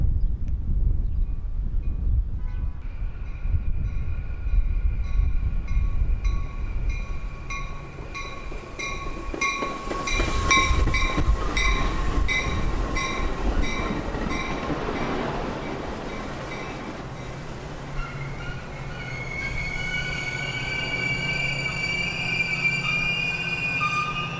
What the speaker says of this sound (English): UP North train number 326 to Chicago on TC is now arriving.